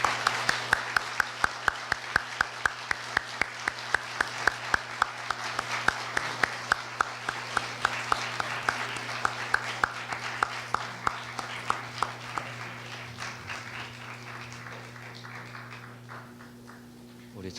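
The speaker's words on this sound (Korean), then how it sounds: "우리 다 같이 뜨거운 환영의 박수로 맞이해 주시기 바랍니다" An audience gives welcoming applause as the Russian Senate speaker's party enters a hall, with an even, rhythmic clapping that fades away in the last few seconds under a steady background hum.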